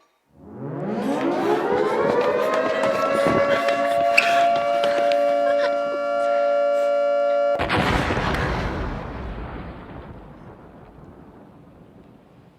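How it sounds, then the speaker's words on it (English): Air-raid warning siren for a Holocaust remembrance theater piece, winding up from low to a sustained loud wail, holding, then cutting off abruptly into a rumbling, fading tail. "Before the bombs would hit, there would always be a warning siren."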